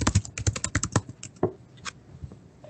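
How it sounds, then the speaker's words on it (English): Someone types on a computer keyboard during a virtual meeting: a rapid burst of close, loud clicking keystrokes that thins into a few scattered taps. "So whoever's typing, can you go on mute, please?"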